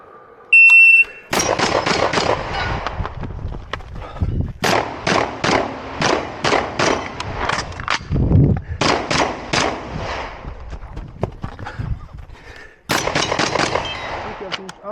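Shotgun shots at an outdoor practical shooting competition stage, fired in rapid, sharp, loud bursts of many blasts with short gaps, preceded by a brief electronic start beep.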